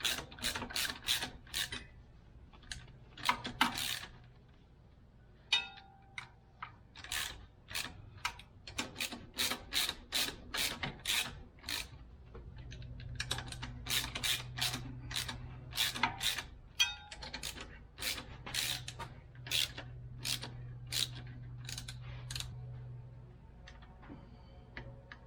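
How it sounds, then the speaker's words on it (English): Bolts being run in and tightened on a starter fitted to a 4L80E transmission, giving repeated short ratcheting and rubbing clicks in bursts with pauses, close and fairly quiet, with no talk. "Run these starter bolts up in evenly."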